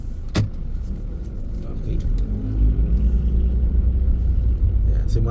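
A truck rolls along a road on a duathlon race course, its low rumble rising and growing louder toward the end, with a person talking over it.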